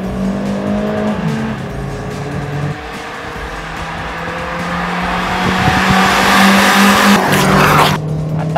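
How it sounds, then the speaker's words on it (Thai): Honda Civic driven through slalom and oversteer tests, its engine droning steadily and then building loudly, with tyre squeal rising toward the end, close and without speech. "เราไปชมการทดสอบแบบสลาล่อมและ Under Oversteer กันเลยครับ"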